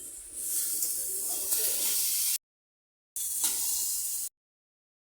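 Tomatoes dropped into hot spiced oil in a pan, a loud close hiss of sizzling that surges and fades in two bursts separated by abrupt silences, no speech.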